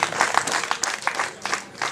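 Applause rings out at a wedding reception, a crowd clapping steadily in a dense, bright patter with a few sharper claps rising above it throughout.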